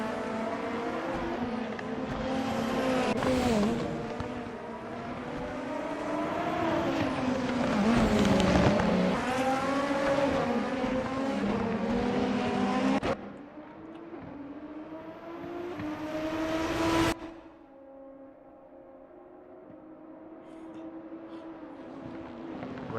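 Race cars in a Formula racing video game roar past with high, shifting engine whines that rise and fall, several overlapping, then drop to a single steadier engine tone before a sharp cut.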